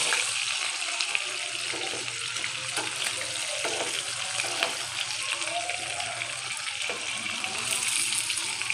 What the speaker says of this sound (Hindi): बाकी के भी फ्राई कर लेते हैं